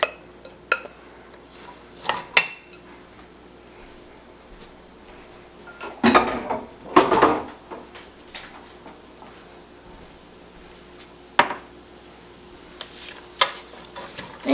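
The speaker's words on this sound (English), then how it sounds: "And you just want to keep stirring it around in the pot." Spoon scraping and clinking against a pot of sautéing food on a stove at medium heat, in sparse scattered bursts with quiet gaps between them.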